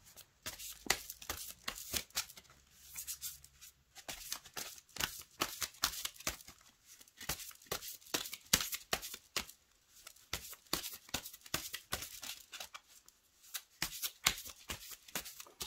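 Oracle cards are shuffled and handled close up in a long series of quick, crisp riffling flicks and soft slaps, quiet and rhythmic with brief pauses.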